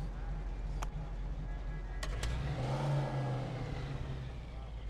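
A fully tuned car engine in the video game Mafia II revs up once in a rising roar over steady low rumble, with a couple of brief clicks before it.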